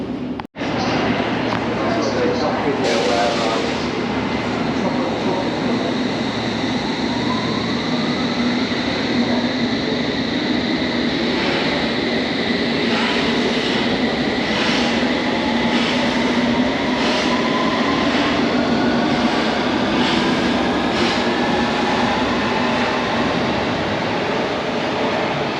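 A London Underground Circle Line train rumbles loudly and close throughout, with a rising electric motor whine, rail clatter and a busy, packed carriage ambience.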